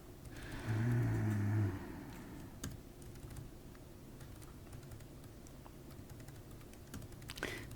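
Computer keyboard typing during a coding session, with a sticky S key, close and fairly quiet; a low rumble of handling noise opens the stretch and brief keystroke clicks tick along under steady room hiss.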